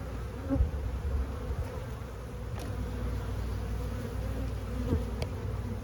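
Honey bees from a healthy colony busy collecting pollen, buzzing as a steady, dense hum that holds evenly throughout, with a few individual insects passing close now and then.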